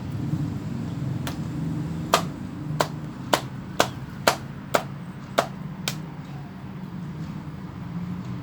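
A knife chops chicken on a board eight times at a steady pace, crisp close knocks over a low background hum.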